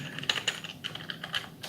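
Quick, uneven keystrokes on a computer keyboard praised for its snug, satisfying key feel, with crisp clicks in short bursts and small pauses, fairly close and alone.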